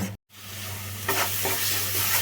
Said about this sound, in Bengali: এখানে কিছুটা লবণ দিয়ে দিব হলুদের গুঁড়া এবং মরিচের গুঁড়া মশলাটা ভালো মতন আমি কষিয়ে নিব